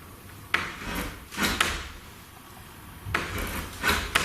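A door is pushed against its frame but won't stay shut, producing a few soft wooden bumps and scraping rubs in separate bursts, close and fairly quiet, in an escape room.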